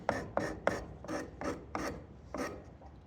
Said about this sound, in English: Sand the edges so they're nice and smooth.